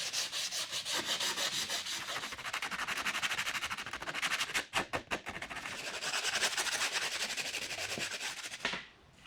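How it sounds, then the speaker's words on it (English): Rapid back-and-forth sanding rubs along the edges of a scrap-wood chair's seat pad and backrest, a steady rhythmic rasp with a few brief pauses, close and fairly quiet, without speech. "I'll smooth over all the edges on the seat pad and the backrest ready to upholster them."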